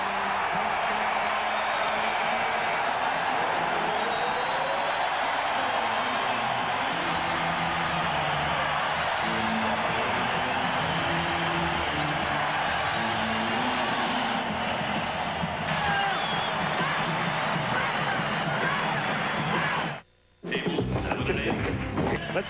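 Basketball arena crowd at a 1994 NBA playoff game between the Portland Trail Blazers and Houston Rockets roaring steadily and loudly through the whole stretch, with a brief dropout near the end.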